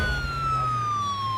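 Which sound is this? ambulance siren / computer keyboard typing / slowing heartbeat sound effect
ambulance siren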